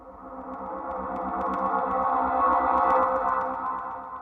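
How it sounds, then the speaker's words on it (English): GarageBand Wave Space soundscape synthesizer patch producing a sustained, shimmering ambient pad that swells gently and fades slightly, with faint sparkling high tones on top and no voices. "I'm going to select Synthesizer, Soundscape, and I'm going to choose Wave Space."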